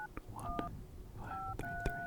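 Telephone keypad dialing tones, a handful of short, distinct beeps pressed one after another at close range, with soft background noise between them.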